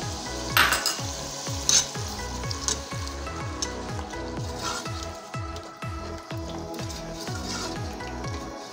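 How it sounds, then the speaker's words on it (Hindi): Egg curry masala fried with yogurt in a pan, a steady close sizzle with a rhythmic, repeating stirring scrape and occasional bubbling pops, no voices. "अब दही इसमें शामिल करके इसको खूब भूनें।"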